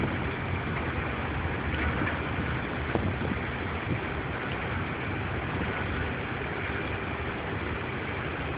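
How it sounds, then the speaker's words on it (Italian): A fast waterjet boat runs nearby on the left toward Messina harbor, a steady broadband engine and water rush that holds even and continuous throughout, with no talk. "accanto a noi abbiamo uno scafo veloce che sta correndo alla nostra sinistra verso il porto di"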